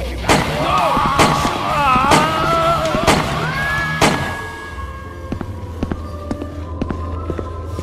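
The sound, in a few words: gunshots in the video game Yesterday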